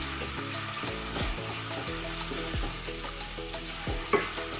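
Onions fry in a pan with bay leaf, clove and cinnamon stick, giving a steady close sizzle with regular stirring scrapes and one sharper clink near the end, and no voices.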